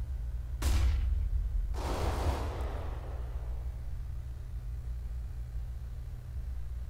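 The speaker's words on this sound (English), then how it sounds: "flashbang." Flashbang grenade bursting in CS:GO on the Mirage map, two sharp bright blasts in quick succession over a low steady hum, each with a short fading ring-out.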